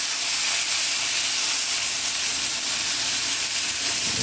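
Beef pot roast sears in a hot pan, giving a loud, continuous, close-up sizzle and spitting hiss that holds evenly throughout with no talking.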